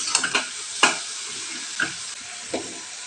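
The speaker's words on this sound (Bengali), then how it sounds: "একটু ভেজে নিচ্ছি।" Chickpeas and taro frying in a pan, a steady sizzle broken by several loud scraping stirs of a spatula, close up with no talking.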